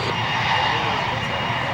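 A Gulfstream business jet takes off at an airshow, its engines giving a loud, steady roar throughout this short stretch, with a voice talking over it.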